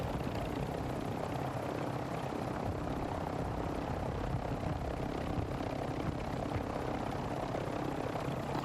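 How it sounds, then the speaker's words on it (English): A helicopter in the video game Warzone 2 flies nearby with a steady, loud rotor and engine roar that fills the whole stretch without a break. "If he crashes this chopper, bro, and I thought he was going to crash it"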